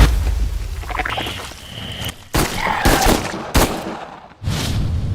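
Several sharp gunshot bursts ring out in a barrage, bringing down a giant spider monster with bamboo legs; loud cracks separated by short gaps over a rumbling, cinematic background, with no speech.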